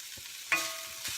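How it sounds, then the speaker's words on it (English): Chopped organic spinach is stirred in a hot pan with a walnut wooden spoon, producing a soft, steady sizzle and a single sharper scrape, heard close and fairly quiet with no voices. "And just stir that around for a few minutes."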